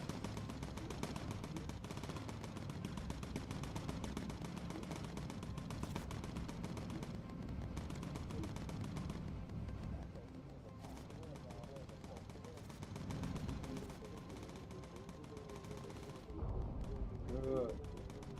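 Machine gun fire from bomber gunners in the Bomber Crew WWII game, a dense continuous rattle of rapid bursts over steady engine drone, with people talking throughout.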